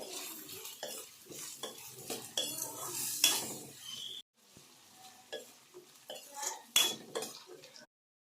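A spoon scrapes and clinks against a pan over a soft sizzle of chopped onions and tempering spices frying in oil, with irregular stirring strokes, close and fairly quiet.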